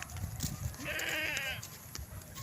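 A goat on a mountainside backyard gives one clear, wavering bleat at moderate distance, set against rustling and light outdoor background noise.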